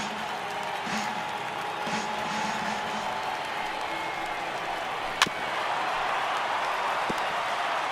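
A crowd at a baseball stadium in MLB The Show 18 produces a steady, moderate roar of cheering and applause, with a single sharp crack partway through.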